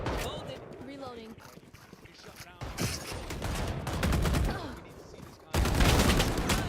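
Gunfire in the tactical shooter Valorant during a VCT Champions match: bursts of rapid shots and sharp cracks scattered through busy game sound, with voices talking over much of it.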